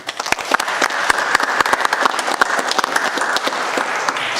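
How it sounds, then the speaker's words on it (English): City council meeting audience gives a round of applause for the parks team, dense, lively clapping from many people filling the room steadily for several seconds. "Have a round of applause for our parks team."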